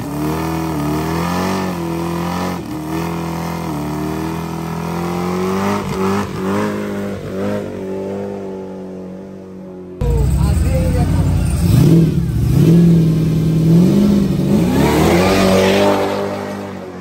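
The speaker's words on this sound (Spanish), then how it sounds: "Aquí ya traemos motor de Supra, plebada." A Supra-engined car at a quarter-mile drag race event in Culiacán, its engine droning and revving loudly with rising pitch sweeps, while people talk nearby.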